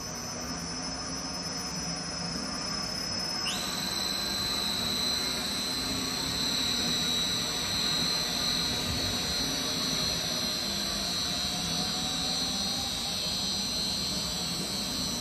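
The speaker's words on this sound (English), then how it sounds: "Now I start both the dispersing part, high speed shaft and low speed shaft." A vacuum mixer for waterproof coatings runs in a factory test with its high-speed dispersing shaft and low-speed shaft turning together, giving a steady, loud mechanical drone with a high whine that steps up in pitch early on and then holds.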